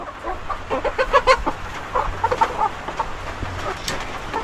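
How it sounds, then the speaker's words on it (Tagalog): Chickens cluck in quick, irregular bursts close by, with a steady low background hum and no talking. "Itong mga manok ko dito, kumusta na kaya?"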